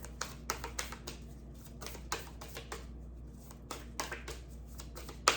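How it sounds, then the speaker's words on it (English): Rapid, uneven clicking and flicking of stiff tarot cards being shuffled by hand, close up, in several quick bursts with no talking. "It's not the easiest deck to shuffle actually"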